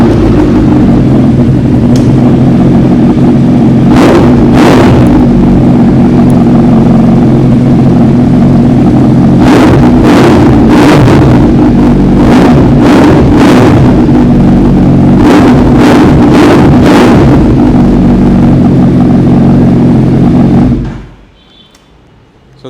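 A 2013 superbike with a custom exhaust runs loud and close, its engine holding a throbbing idle broken by repeated sharp throttle blips and revs before it abruptly shuts off near the end.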